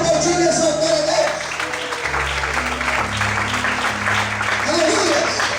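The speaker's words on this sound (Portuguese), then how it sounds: "Vamos poder aplaudir e exaltar a Deus." Church congregation clapping in praise of God, sustained applause blended with low organ or keyboard tones and voices, moderately loud throughout.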